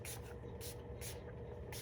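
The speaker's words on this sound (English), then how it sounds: "So now we're gonna go in with setting spray." Four quick, hissing spritzes from a makeup setting spray bottle, evenly spaced and close, over a low background hum.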